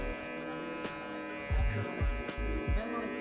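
An electric shaver buzzes steadily while cutting a mid fade haircut, a continuous close hum with bursts of low thumps and rustling as the clipper moves across the head, no talk.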